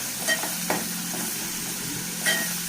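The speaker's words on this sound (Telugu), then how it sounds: "ఈ అల్లం వెల్లుల్లి పేస్ట్ పచ్చివాసన పోయేంత వరకు కూడా మనం మగ్గించుకుందాం" Ginger garlic paste fries in hot oil with chicken liver, a steady close sizzle with a few soft stirring taps and no talking.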